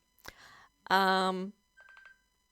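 A mobile phone rings with a short run of bright electronic beeps, faint and steady, just after a brief burst of voice.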